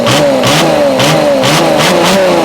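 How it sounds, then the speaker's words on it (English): A diesel engine running without a lift pump is revved hard and repeatedly, giving loud, close rising and falling surges at a quick, even rhythm of about two per second. "I think I could literally rev that all day long and it will not stop"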